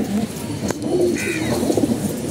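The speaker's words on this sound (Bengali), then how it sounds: "এই কবুতর জোড়া" A mated pair of pigeons coos close by, soft low calls rising and falling over a steady background hum of other birds.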